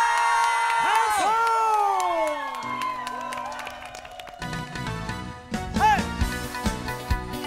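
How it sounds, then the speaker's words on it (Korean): A crowd cheers, whoops and applauds at a rainy outdoor stage singing show. The noise swells behind a loud, sustained voice and music near the start, then carries on steadily and busily to the end. "자 모두 소리 질러 박수."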